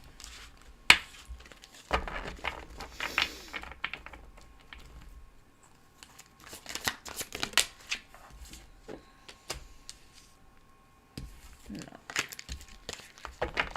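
Tarot cards shuffled during a live tarot reading, giving repeated papery riffles and crisp card slaps in short bursts, fairly close, with a sharp snap near the start and pauses between bursts.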